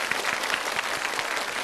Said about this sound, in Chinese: 那得为这份勇气鼓鼓掌